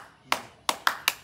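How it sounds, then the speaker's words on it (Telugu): Bare hands clap four times in a short demonstration, each sharp and close, with an uneven gap after the first clap and then two quick claps. "అరే చప్పట్లు ఇట్లా కొట్టాలరా"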